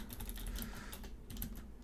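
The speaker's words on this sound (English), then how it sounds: "Just typing it on my thing." Steady, close typing on a computer keyboard during a tabletop game session, with dense continuous key clicks and no talking.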